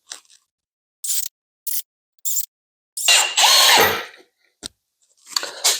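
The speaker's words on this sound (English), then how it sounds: "Now let's put the floor flanges in and screw those in." A power drill drives screws through floor flanges into a 2x4 in short separate bursts, then a longer whirring run, close and fairly loud.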